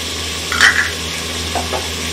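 Garlic and red chili masala being stirred in a pan, a low steady sizzle broken by two short bursts of spoon scraping against metal, no speech.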